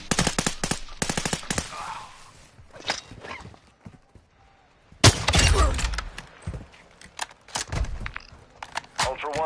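Rapid bursts of automatic gunfire and single shots in a Call of Duty Modern Warfare 2 DMZ match, loud and close, stopping for a quiet stretch midway before firing resumes with a heavy blast.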